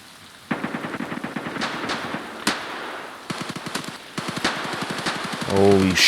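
Gunfire in the shooter game Escape from Tarkov comes in rapid automatic bursts, several strings of shots separated by short pauses, with a louder sustained sound at the end.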